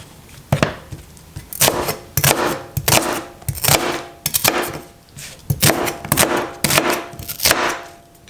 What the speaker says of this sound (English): one big shallot will do. Just gonna cut this very roughly.